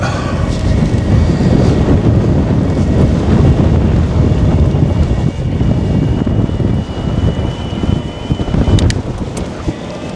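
Strong wind buffets the microphone in a loud, continuous roar with gusty surges while cycling straight into a headwind.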